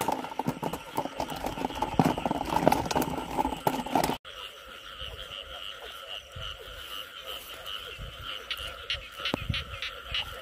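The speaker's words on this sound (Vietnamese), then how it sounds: "Hôm nay ếch kêu nhiều mà toàn ếch đực không nha bạn." Male field frogs croak repeatedly in a rice paddy at night in Vinh Long, loud and near, first in dense overlapping calls and then in sparser calls after a sudden drop, with wind in the background.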